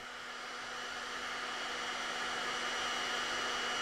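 A hair dryer blows on a fresh layer of liquid clay to firm up a pottery rim, giving a steady, loud, continuous whooshing roar with a faint motor hum throughout, and no talking.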